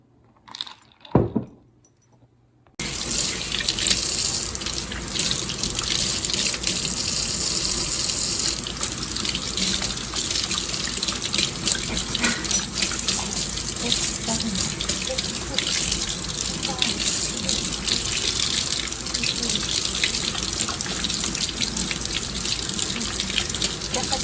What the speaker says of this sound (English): warm your hands up by washing them under running water for a minute